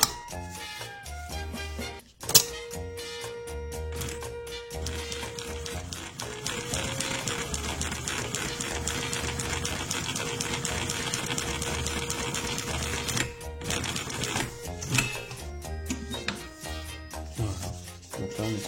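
MAK TE4400 industrial triple-feed sewing machine stitching through leather, a steady close mechanical whir and rapid needle chatter running continuously for many seconds, with a brief pause and a sharp clunk near the start.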